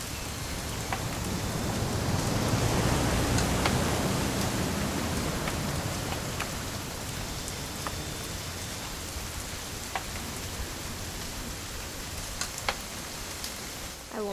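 Steady rain falls through the whole stretch in What Remains of Edith Finch, a dense even hiss of drops with a few brighter patters close by.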